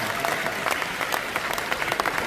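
An audience at a corporate business event bursts into lively clapping, dense and close, with a faint voice under the applause.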